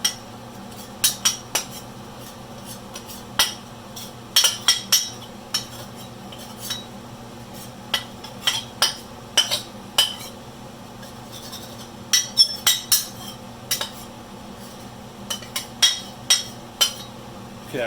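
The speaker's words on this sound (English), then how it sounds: "we're just going to do a quick chopping of it" Cooked eggs being chopped in a bowl or pan for chicken fried rice, sharp irregular metallic taps and clicks of a utensil against cookware, sometimes in quick clusters, over a quiet kitchen background.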